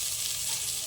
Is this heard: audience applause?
no